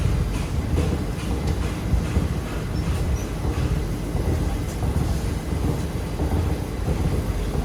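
A delayed passenger train on a trip in Tamil Nadu rumbles steadily along, with dense low-frequency rolling noise and faint rhythmic rattle continuing unbroken throughout.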